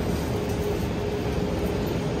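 Ambient rumble inside Spasskaya metro station in Saint Petersburg, a steady broadband roar of trains and station machinery with a constant high whine, moderately loud and without speech.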